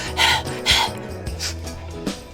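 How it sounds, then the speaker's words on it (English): Someone pants in a Tropico city-building game, with a few heavy breathy gasps over low in-game ambience and music. "I keep hearing somebody panting."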